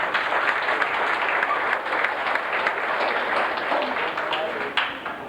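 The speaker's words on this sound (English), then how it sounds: "let's give them a round of applause, please." Audience applause at a 1992 FFA chapter awards ceremony, honoring award winners: dense, steady clapping from a large crowd fills the whole stretch at an even, fairly loud level.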